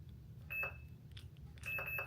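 A security alarm keypad beeps after a house door is opened: two pairs of short, high electronic beeps, well spaced, faint under soft room noise and a low hum.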